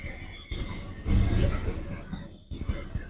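A braking freight train's wheels squeal against the rails. The loud, piercing high whine is heard nearby, with rumbling rail noise underneath.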